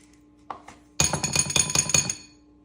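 A spoon scoops Fennel & Thyme onion dip mix and sour cream into a bowl, starting with two soft knocks, then a burst of bright metal-on-bowl clinks and scrapes for about a second, close up with no speech.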